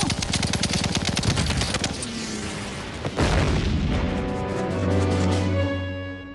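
A loud burst of rapid firing, close and rattling, followed by a heavy boom and a droning roar that lingers afterward.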